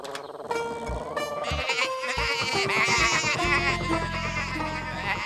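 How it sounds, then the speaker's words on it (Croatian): Cartoon sheep bleat in a quick overlapping series, loud and close, over background music from a children's tractor animation. "Baš kad su ovce došle pred njih."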